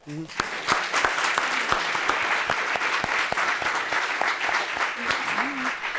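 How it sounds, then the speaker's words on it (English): Audience applause from a talk-show studio crowd, a steady wash of clapping with sharp individual claps standing out, holding level for several seconds, with a brief voice at the start and another near the end. "That's why we're applauding them."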